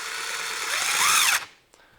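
A Hercules impact driver drives a screw through a 6x6 timber in one loud, close, continuous burst of rapid hammering that rises in pitch, then stops abruptly, followed by a single faint knock.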